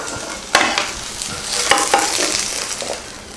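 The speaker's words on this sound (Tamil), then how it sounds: "இப்போ இதை மாற்றிட்டு கடலையை வறுத்துக்கலாம்" Chana dal roasting in a frying pan, with a steady dry sizzle and scraping stirs from a spatula, close up and moderately loud, no voices.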